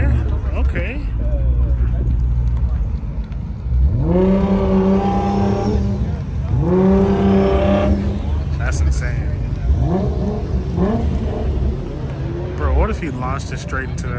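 An Infiniti engine revs hard and accelerates in two rising surges, loud and close, with voices talking around it.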